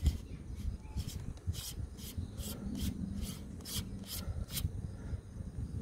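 A Lensbaby filter base ring is threaded by hand onto a 100mm macro lens with a 55-58mm step-up ring, giving soft close rubbing and a series of quick scraping ticks.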